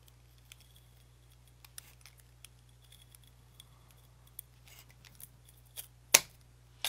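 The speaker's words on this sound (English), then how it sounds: "I'm going to trim this popsicle stick and get rid of the extra" Scissors trim a popsicle stick for a DIY fairy garden accessory, producing sparse, quiet snips and clicks that end in one sharper close cut.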